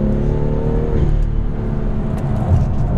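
A BMW M2 with an upgraded thicker steering wheel, driven on a race track, gives a steady loud engine drone with a shifting harmonic pitch from the cabin, continuous with no talk.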